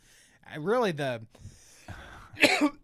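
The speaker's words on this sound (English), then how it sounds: "I think I might have coughed into the mic a little bit." A cough and throat clearing land close on a podcast microphone, a few short harsh bursts with a breathy gap between them.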